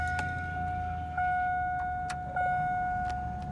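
A 1999-2006 Chevrolet Silverado pickup engine idles steadily nearby, a low continuous rumble carrying a couple of sustained tonal whines and a few faint clicks, with no talking.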